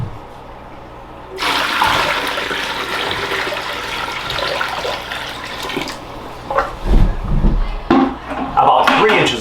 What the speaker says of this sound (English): I'm going to pour some water in and we're going to see, we're going to reveal if it drips any water